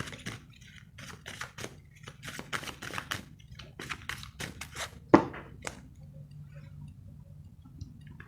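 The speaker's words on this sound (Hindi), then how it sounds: "शफल कर लेती हूँ मैं।" A deck of tarot cards is shuffled by hand in a run of soft, rapid ticking riffles and taps, close and fairly quiet, ending in a sharper snap followed by quieter rustling.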